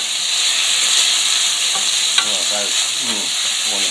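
Gold beets sizzle loudly and steadily in a hot frying pan, a constant bright hiss with occasional stirring scrapes, close by.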